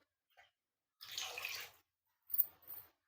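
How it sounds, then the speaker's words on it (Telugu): A little water is poured into a cooking pot of tempered budamkaya dal: one short splashing pour of about a second, then two quick small splashes in a quiet kitchen with no talking. "కొద్దిగా వాటర్ వేస్తాను."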